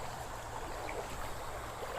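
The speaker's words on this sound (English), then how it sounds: "A little bit of fast moving water here." Fast-moving stream water rushes and burbles steadily in a trout stream, a constant soft broadband wash without voices.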